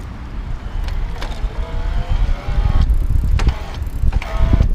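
A Raleigh Detour iE electric bike ridden at high assist, with a steady rolling hum of tires and a faint motor whine rising under wind noise, plus a few sharp clicks and rattles along the way.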